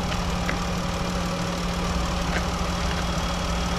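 A 2018 Ram ProMaster 1500 front-wheel-drive van idles steadily, a constant low engine hum with a faint even pulse, heard up close and uninterrupted, no talking.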